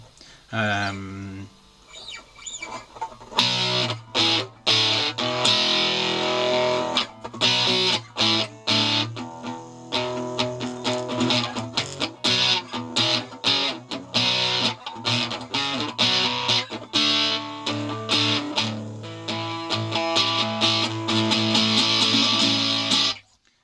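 Distorted electric guitar from a Harley Benton Telecaster with a micro amp built into the body rings out with echoing delay trails, sustained chords and notes layered over one another, loud and continuous with a few brief gaps.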